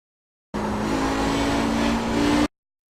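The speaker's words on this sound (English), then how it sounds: "you heard me feathering the throttle a little bit there" Audi 90 GTO race car in iRacing at Spa, engine droning steadily at near-constant pitch for about two seconds as the throttle is feathered, close and loud with faint tire noise, no talk.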